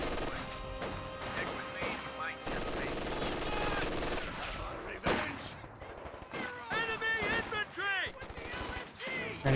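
MG42 machine gun fire in the strategy game Company of Heroes 2, heard as sustained loud rattling bursts mixed with crashing impacts and other battle sounds, with a voice talking over part of it.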